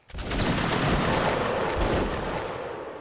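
A line-infantry musket volley in a Napoleonic Wars battle game, a loud, dense crackle of many shots fired together that rolls on for about three seconds before slowly thinning out.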